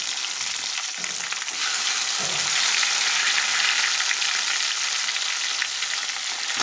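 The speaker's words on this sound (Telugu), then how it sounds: "ఇప్పుడు దీంట్లో ఉల్లిపాయలు వేయాలి మనం కట్ చేసుకొచ్చిన ఉల్లిపాయలు" Chopped onions go into hot tempering oil, giving a loud, dense, continuous sizzle up close that swells and holds steady, with no talking.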